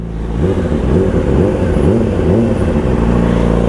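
A Yamaha R6 motorcycle engine runs loud and close, with a deep, throbbing idle that rises and falls in rhythmic revs under no talk.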